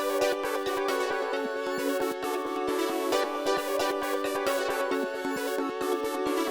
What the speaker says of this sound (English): so I grabbed this filter envelope key preset in Xenology, and I laid out this 2 chord pattern.